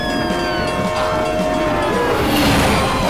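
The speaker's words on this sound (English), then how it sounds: "the train comes right down the middle of the road!" A train in an indie video game barrels right down the middle of a road, a loud, steady rumbling rush with rising whistle-like tones as it passes close by.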